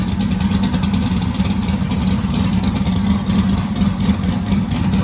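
A big-cam twin-turbo LS V8 idles with a choppy, lumpy rhythm, loud and close, its low pulsing steady throughout with no talking.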